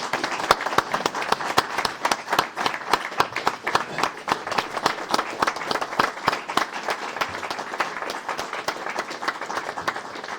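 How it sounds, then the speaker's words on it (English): Steady applause from the audience at a city council meeting, many hands clapping densely and evenly for about ten seconds with no speech over it. "Let's give her a round of applause"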